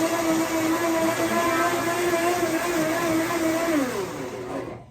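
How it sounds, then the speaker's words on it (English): A blender pureeing butternut squash soup on its soup setting whirs loudly and steadily with a pitched hum, then slows and winds down near the end. "If you don't have a soup button like I do on my blender"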